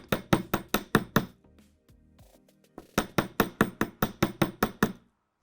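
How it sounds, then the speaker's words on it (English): Metal wire for hoop earrings being struck by a jewelry hammer: two quick bursts of about seven and ten sharp, evenly spaced ringing taps, close and clear, separated by a short quiet pause with faint handling noise. "now I'm gonna come down here and I'm going to hammer this out"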